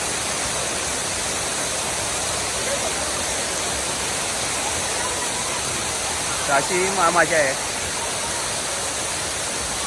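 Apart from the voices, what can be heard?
waterfall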